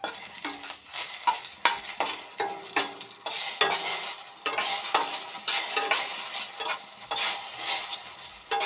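Bay leaves and dried red chilies crackle and sizzle in hot oil in a pan, a steady busy spattering with bursts of popping throughout and no voices.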